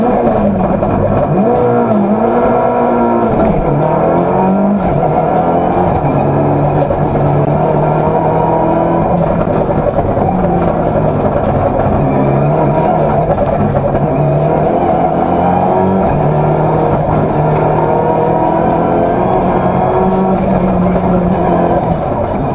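A rally car roars along a mountain gorge stage road at full throttle, engine revving up and down through gear changes with tire noise, loud and close, no talking.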